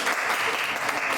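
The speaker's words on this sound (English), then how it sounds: "for all of those people who are clapping" An audience at a 2008 candidates forum claps in a dense, steady burst of applause, sustained and fairly loud throughout with no voices over it.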